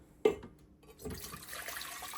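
Water pours into a rice cooker pot holding jasmine rice, starting with a sharp splash and then settling into a steady, faint trickle close by.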